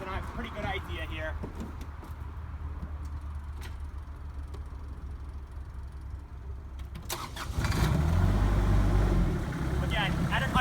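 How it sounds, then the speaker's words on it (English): A Kioti CS2210 sub-compact tractor's engine cranks and catches around two-thirds of the way in, rising to a loud, steady near idle after a stretch of quieter background rumble with some voice. "we're going to go to the Kioti and start the CS2210"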